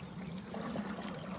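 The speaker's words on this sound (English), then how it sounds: "Here the water is running over this infinity pool" Water spills steadily over the edge of an infinity pool at a chapel, a soft continuous trickling wash with a low rushing undertone, close and even, with no voices.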